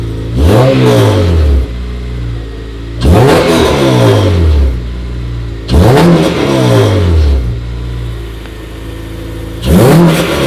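A Honda Civic Si engine with an aftermarket Invidia Q300 exhaust revs loudly four times with a throaty, rumbling exhaust, each burst climbing then falling back to a low idle between pulls.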